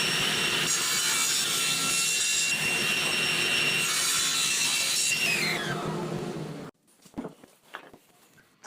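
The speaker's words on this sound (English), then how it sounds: "I'll cut it in half first with the miter saw" A miter saw slices a pear wood blank in half, a loud steady cutting whine with the blade roar running for about six seconds, then winding down and stopping, followed by a few faint knocks and handling sounds.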